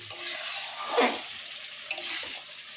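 Mutton masala sizzles and crackles in hot oil in a pan while being stirred, a steady fry hiss with a louder scrape of the spoon in the middle, no talking.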